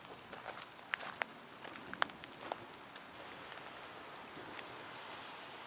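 Rain falls steadily and faintly in Albuquerque, New Mexico, with a soft continuous patter and a few sharper drips, heard alone with no voices.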